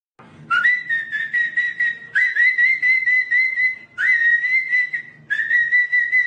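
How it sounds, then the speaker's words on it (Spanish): A player whistles in Minecraft survival on the 1.16 Nether Update: four loud, sustained whistled phrases with slight pitch bends, clear and close, with nothing else alongside. "Les voy a chiflar, miren."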